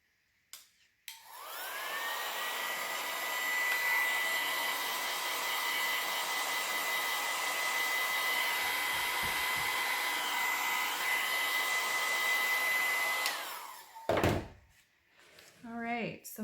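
A hair dryer blows steadily and loudly for about twelve seconds, drying a handmade Christmas craft decoration, then clicks off, followed by a few handling knocks and a short voice.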